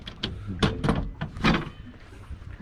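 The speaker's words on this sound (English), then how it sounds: "There's a door here so that you can put that across." Bow door on a 2015 Chris Craft Launch 28 yacht sliding across and closing, a series of short knocks and clunks with a rattling slide, close by and moderately loud, with no talk.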